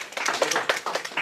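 Brief, scattered clapping from a small audience at an open house presentation, a short burst of uneven hand claps lasting about a second.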